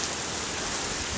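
Heavy rain pours steadily during a Tennessee tornado storm, a dense, loud hiss of water hitting surfaces with no break.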